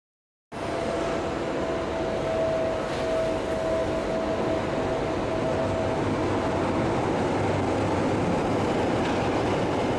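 A Tyne & Wear Metro train stands at St James terminus in the city centre, giving off a steady, loud rumble and hum with a thin tonal whine. The sound runs continuously for about ten seconds, with no voices.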